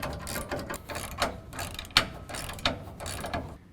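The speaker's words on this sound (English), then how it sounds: "now I'm going to use a 21mm to remove the 3 nuts holding on our triple bolt plate" A hand ratchet fitted with a 21mm socket clicks in quick, uneven bursts while backing nuts off a bolt plate on a 2017 Ford F-150 rear bumper, close and clear with no talking.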